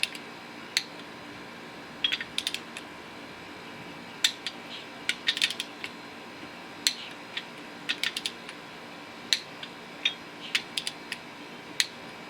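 A torque wrench tightens bolts on a Chevy 350 engine during a rebuild, giving short sharp ratcheting clicks in irregular bursts over a quiet workshop background, near and crisp.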